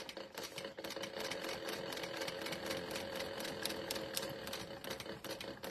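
A sewing machine runs steadily, stitching vinyl for a cosmetic case, its fast mechanical whir and needle clatter carrying continuously at moderate volume with no talking.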